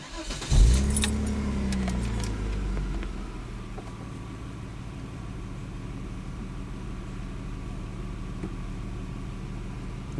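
A Volvo car engine cranks and catches with a sharp start burst, then settles into a steady idle, close by with a faint jingle of keys near the start.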